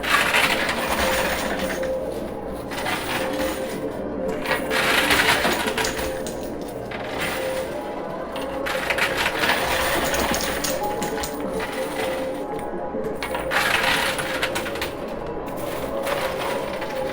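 A high limit coin pusher machine churns continuously, with a dense clattering, crunching rush of coins and chips tumbling and scraping for a long, loud stretch without pause.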